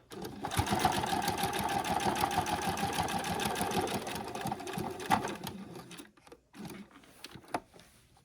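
A sewing machine bastes backpack straps in a fast, steady run of close, mechanical stitching for about six seconds, then slows and stops with a few light clicks.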